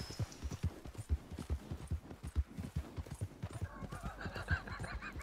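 Horse hooves clip-clop in a steady trotting rhythm in Red Dead Online, close and fairly loud, joined near the end by a horse's whinny.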